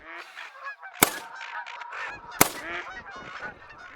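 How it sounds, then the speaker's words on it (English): A large Canada goose honks repeatedly in a hunting video game, a run of loud, close nasal calls with two sharp gunshot-like cracks between them. "that's a massive level 4 Canada goose"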